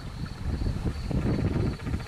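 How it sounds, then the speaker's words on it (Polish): Gusty mountain wind buffeting the microphone near church ruins and a birch forest in Marcinkowo, with a continuous low roar and rushing texture, loud and close, with no voices. "Muszę przekrzykiwać ten wiatr."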